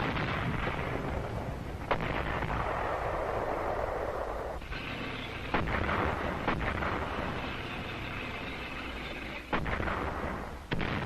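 World War II battle on Guam with artillery and mortar fire from cliffs: a continuous rumbling barrage over dense wartime noise, broken by several sharp, heavy blasts at intervals.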